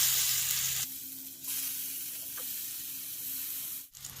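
Stuffed brinjal pieces coated in masala fry in a pan with a steady, close sizzle and hiss. The sizzle shifts in level as pieces are added and moved, then breaks briefly near the end.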